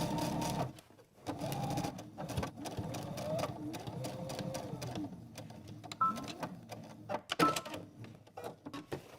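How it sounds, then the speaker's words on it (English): A sewing machine runs a basting stitch along a dress seam in bursts of whirring, mechanical stitching, stopping and starting, fairly quiet and close, with a person talking over parts of it. "Now I'm gonna go ahead and switch over to a basting stitch,"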